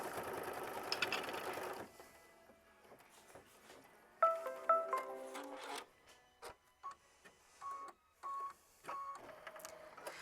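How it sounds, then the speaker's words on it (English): An embroidery sewing machine stitching a tack-down line for a quilt block: rapid mechanical whirring, then a few electronic beeps and short stop-start bursts of stitching. "I'm going to hit start, and I'm going to sew machine stitch step 9 so it'll tack it down"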